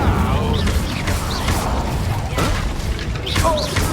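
A fire spell cast in the video game Hogwarts Legacy, heard as a loud whooshing, booming burst amid continuous combat effects and clashing impacts, with a voice calling out over it.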